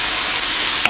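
Vegan Italian sausage drops into a hot frying pan with onions and peppers, producing a continuous close sizzling hiss.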